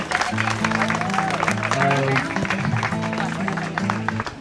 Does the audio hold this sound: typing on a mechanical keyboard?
no